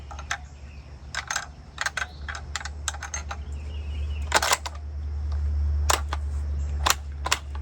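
A rifle bolt is cycled repeatedly to feed rounds from the magazine into the chamber. Crisp metallic clicks and clacks come in irregular bursts close to the mic over a steady low hum, with no voices.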